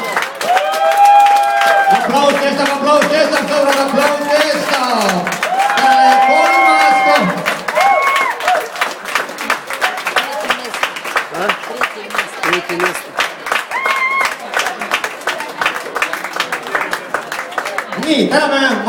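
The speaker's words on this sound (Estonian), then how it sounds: "Aplaus kestab, sõbrad." An audience at a concert claps and cheers for the performers. Dense clapping carries on steadily under loud, sung or shouted voices and whoops throughout.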